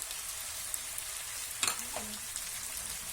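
Chopped tomato and boiled green peas fry on a tawa with a constant close sizzle, punctuated around the middle by a sharp clatter of stirring and a short scrape, with no voice over it.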